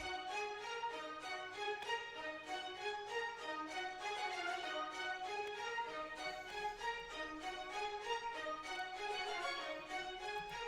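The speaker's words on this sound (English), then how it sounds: "we just loaded up this staccato string from Orchestral Essentials" Staccato strings from the Kontakt Orchestral Essentials library play a steady run of short, detached repeated notes in a tight rhythm, loud and continuous without pause, under a low sustained bed.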